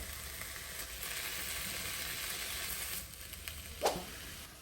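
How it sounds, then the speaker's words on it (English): Steady, soft frying sizzle of hot dogs in a pan runs through the whole stretch, with a small pop or spatter near the end. "While the hot dogs are cooking behind me over there"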